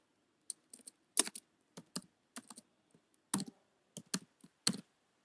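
Keystrokes on a computer keyboard come in short irregular bursts and single clicks, close and fairly quiet, with silent gaps between them and no voices.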